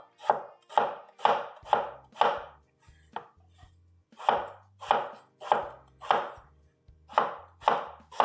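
A knife chops carrot and green onions into small pieces on a board, a close, crisp run of evenly spaced strikes, one brief pause near the middle before the chopping resumes, no talking.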